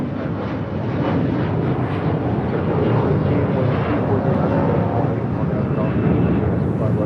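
A Lufthansa Airbus A380 at LAX produces a broad, steady jet rumble and roar that builds slightly and holds, heard from outside at a distance with no voices over it.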